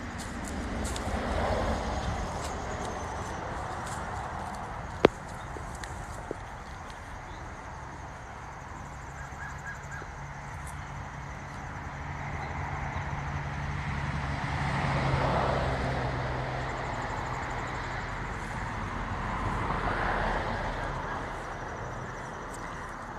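Distant road traffic rumbles on through an early morning outdoors, swelling and fading as vehicles pass, with one sharp click partway through.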